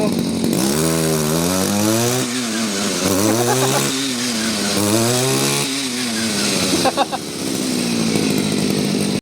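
A used Japanese Maruyama brush cutter's small two-stroke engine runs loudly and continuously, its pitch repeatedly rising and falling as the throttle is revved and eased off.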